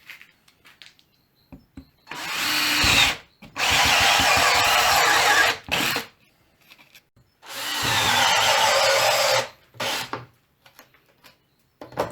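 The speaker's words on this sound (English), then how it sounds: "So he had to measure first, then he had to drill holes." A power drill whirs in two long bursts with short gaps and a few brief spurts, close and fairly loud, drilling holes in plastic protein powder containers.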